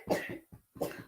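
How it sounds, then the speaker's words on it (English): A young child coughs three times in quick succession, fairly faint and close, with short wet bursts separated by brief gaps. "the young one's coughing"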